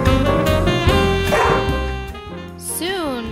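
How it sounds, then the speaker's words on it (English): A puppy yips and barks in quick bursts close by, high whining tones rising at the end over a steady background hum. "I like to bark at everything"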